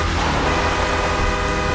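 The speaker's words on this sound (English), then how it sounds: "He's honking the horn." A car horn honks in a GTA roleplay game, a steady blaring tone held over a vehicle engine hum, close and loud with no talk.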